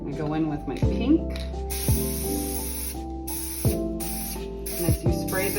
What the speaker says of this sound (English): as you spray the pink, you'll see the purple start to come out.